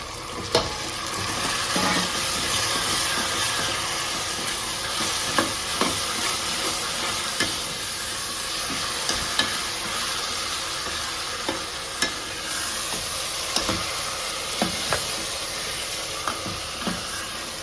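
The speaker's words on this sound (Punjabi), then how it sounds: "ਹੁਣ ਆਪਾਂ ਇਹਦੇ ਵਿੱਚ ਟਮਾਟਰ ਪਾ ਦਿੰਦੇ ਹਾਂ" Onion and tomato frying in a pan as a base for chicken curry, with a constant sizzle, punctuated by regular clinks and scrapes of stirring, close and moderately loud.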